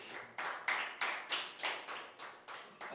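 Audience at a Hindi poetry open mic clapping in about nine loud, regular bursts, evenly spaced like a rhythmic group clap keeping time.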